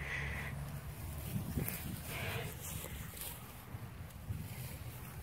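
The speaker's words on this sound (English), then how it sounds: "Do you hear that sound? That whoosh all around. It's the wild, wild wind." Whooshing wind blowing steadily outdoors, a broad continuous rushing hiss with low rumble, swelling slightly in gusts throughout.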